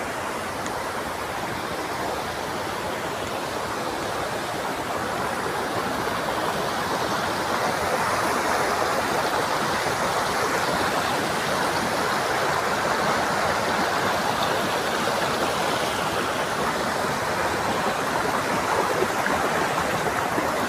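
A waterfall in Dapoli in the Konkan roars with steady broadband rushing water, loud and continuous for the whole stretch with no talking.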